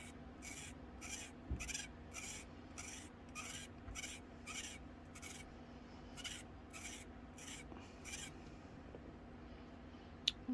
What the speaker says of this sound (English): I'm just going to scrape some of this off in here to make the red.